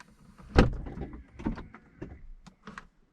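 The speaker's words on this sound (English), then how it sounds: "we've got working central locking again" The central locking on a Mercedes W126 560SEL actuates in a short series of close mechanical clicks and thunks, with quiet gaps between them.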